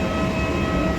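Riding inside an airport train at Bangalore Airport, a steady rumbling drone with a faint tonal whine fills the car, continuous and fairly loud throughout.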